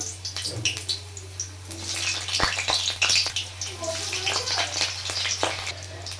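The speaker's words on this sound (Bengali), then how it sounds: "এরপরে আমি আলুগুলোকে ছেড়ে দিলাম" Potatoes go into hot oil already tempered with spices, setting off a dense, continuous crackling sizzle with scattered sputtering pops over a low steady hum, close and fairly loud.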